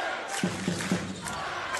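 Basketball hall crowd rising to its feet and cheering, a broad roar of many voices with three short rhythmic chant-like bursts standing out, loud and continuous throughout.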